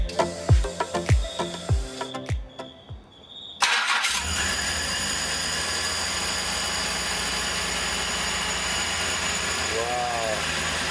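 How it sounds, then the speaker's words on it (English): A VN Commodore V6 with a new turbo setup cranks over with several rhythmic starter bursts, pauses briefly, then catches and settles into a loud, steady, smooth idle that holds close by to the end. "First start up with the new turbo setup."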